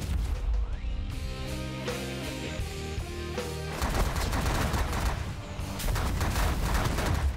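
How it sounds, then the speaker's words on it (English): Ships in the space strategy game The Last Federation fire on a target in rapid, dense bursts of gunfire and booming impacts, loud and continuous against game music. "we'll just kind of sit here and shoot it to bits"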